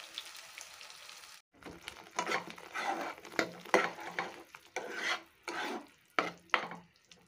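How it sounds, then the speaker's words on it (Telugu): Onion and tomato paste with green chillies frying in a pan while being stirred, a soft sizzle broken up by repeated scraping strokes of a spoon, close and fairly quiet. "ఉల్లిపాయలు టమాటా పేస్ట్ వేసి అలాగే రెండు పచ్చిమిరపకాయలు బాగా కలుపుకుంటూ ఫ్రై చేసుకోవాలండి"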